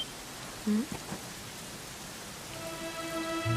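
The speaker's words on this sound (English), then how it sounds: "it was raining like this the last time I ever saw her" Rain falls steadily in a Dragon Quest XI game scene, a soft even hiss with a brief tonal blip early on and game music swelling in toward the end.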